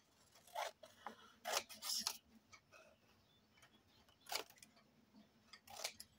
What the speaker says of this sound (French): Je vais couper la petite languette.